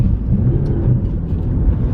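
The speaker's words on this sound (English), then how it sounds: "that was just me turning out onto some gravel off-road" Holden Cruze car driving and turning off onto a gravel off-road surface, with a steady, loud low-frequency engine and road rumble close up throughout.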